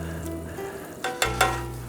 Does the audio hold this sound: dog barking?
no